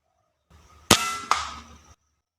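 Two sharp air rifle shots crack about half a second apart while turtle doves are being hunted outdoors. A brief hiss and rattle trails after them, with no talking.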